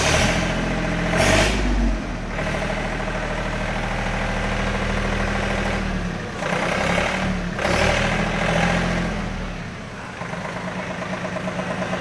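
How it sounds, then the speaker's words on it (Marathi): A John Deere 3028EN 4WD tractor's diesel engine runs close by at a steady idle, loud and continuous, with a couple of brief revs rising and falling. "जॉन डियर 3028EN या ट्रॅक्टरची फायरिंग"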